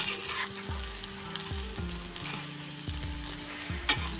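Cooked rice and vegetables being stirred together in a hot pan, a soft sizzle under repeated scraping knocks of a spoon against the metal, close up and without speech.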